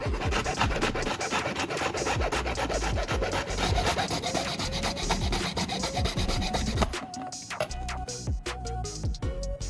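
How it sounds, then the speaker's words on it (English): Cut edges of a plastic shampoo bottle being smoothed by hand: rapid, repetitive rasping strokes, close and fairly loud, that stop briefly and then resume in a sparser pattern. "I'll clean and smooth out the cut edges a bit to remove any rough or uneven parts"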